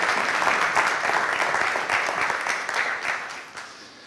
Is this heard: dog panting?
no